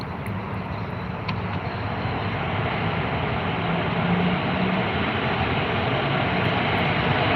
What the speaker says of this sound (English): 737 landing into runway 32 on the Gold Coast.